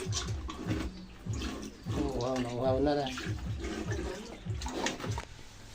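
Water splashes and pours in bursts while people talk over it, close by.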